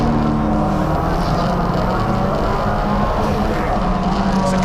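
Touring saloon race cars, a green BMW and a turbocharged Audi A3, roaring close together in a Classic Thunder Saloons race at Snetterton, with a loud, continuous engine drone throughout.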